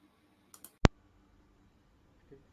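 A computer mouse clicking during data entry in a form, one sharp close click after two fainter ticks, then quiet room tone with a soft knock near the end.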